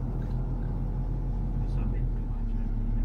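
A car engine drones steadily at low revs during a manual-transmission driving lesson, a constant rumble inside the cabin with the occupants talking over it.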